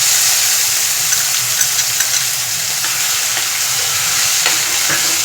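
Tomato chutney is stirred in a hot pan, giving a loud, continuous hissing sizzle close by with faint scraping from the spoon running under it.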